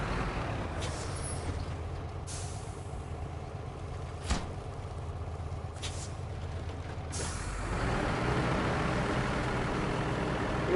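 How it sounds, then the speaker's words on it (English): A loud truck engine from the off-road driving game Snowrunner runs continuously, with air-brake hisses and bursts cutting in, and the rumble swells louder toward the end. "this truck does have a pretty loud engine."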